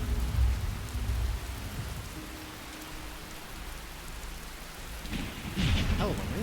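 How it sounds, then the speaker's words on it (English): Heavy rain hisses steadily in a Fallout 4 rainstorm, with low rumbles of thunder rolling at the start and again near the end. "Hell of a rainstorm."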